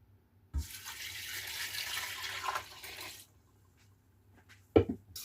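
Water from a tap runs into a cooking pot for about three seconds, a steady close splashing stream, followed by quiet and a short knock near the end.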